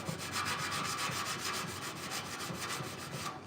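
Sanding the bead-rolled radiator cover panel of a 1968 C10 grill shell by hand, a steady rhythmic scrubbing with quick regular back-and-forth strokes, close and continuous with no talk.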